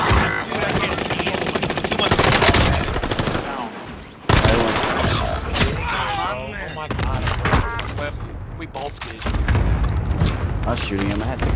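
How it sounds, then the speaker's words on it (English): Rapid automatic gunfire from Call of Duty: Modern Warfare rattles in long dense bursts with a sharp crack between them, loud and continuous under overlapping voices talking. "I was shooting him, I had 60 bullets."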